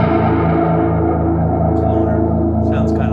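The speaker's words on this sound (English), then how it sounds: "Sounds kind of like a phaser to me." An electric guitar through a Spark amp with a phaser-like effect plays loud, sustained chords that swirl and sweep, filling the whole stretch, with a faint voice briefly near the end.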